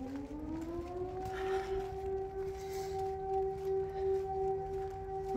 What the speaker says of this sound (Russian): Это ужасно, вот этот звук тревоги.